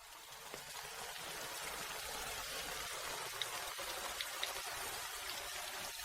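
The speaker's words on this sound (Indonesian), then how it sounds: "di luar hujan deras" Heavy rain falling outside makes a steady, dense hiss with occasional louder drips standing out, fairly soft and constant throughout, with no voices.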